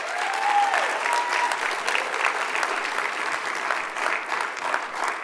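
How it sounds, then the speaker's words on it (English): Applause from the audience at a WorldDenver Council of the Year event, dense and sustained clapping from a sizable crowd that holds an even level throughout without fading. "So let's give them a round of applause."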